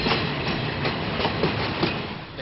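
Freight train hauling military weapons on rails toward Nairobi, one of three trains each pulling 17 wagons; a steady, loud rumble of rolling wagons with rhythmic clickety-clack from the wheels throughout, no voices.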